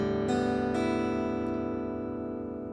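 A guitar in E standard tuning rings out as open strings are struck together, two strums a moment apart leaving a steady, softly decaying chord.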